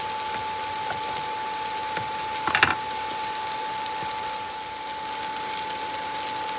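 Brussels sprouts sizzle in a pan after a sprinkle of salt and black pepper, giving a steady, close frying hiss throughout. A brief louder crackle or stir bursts out midway, and no one speaks.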